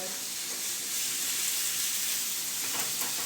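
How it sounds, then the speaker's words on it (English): An egg sizzles steadily in a frying pan, a constant hissing crackle with faint background noise. "Don't want it sizzling too much."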